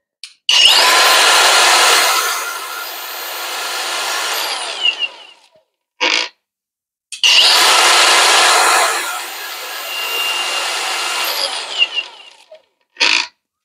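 A Dong Cheng cordless angle grinder spins up twice, each run a loud, high whine lasting about five seconds before winding down, with short clicks of handling between runs.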